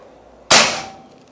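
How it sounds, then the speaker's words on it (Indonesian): A PCP air rifle, a Mauser or Marauder OD 38, fires one loud, sharp shot close by, followed by a short decaying ring. There is quiet before the shot and no talk. "Untuk tembakan yang pertama"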